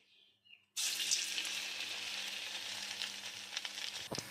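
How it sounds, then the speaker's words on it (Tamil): Idli dipped in masala batter drops into hot oil and bursts into a loud, bright sizzle after a brief quiet moment, then keeps frying steadily with small crackles and pops close by. "நம்ம செஞ்சு வச்ச மாவில் நம்ம இட்லியை டிப் பண்ணி நம்ம சூடான எண்ணெயில் இதை போட்டுக்கலாம்."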